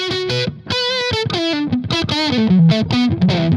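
Heavily distorted electric guitar through a Keeley distortion pedal, playing a chunky, sustained riff, loud and continuous with shifting chords throughout.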